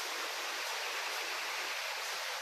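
Water pours steadily over a rain-swollen waterfall, a dense, continuous rushing hiss heard close by with no pauses or voices.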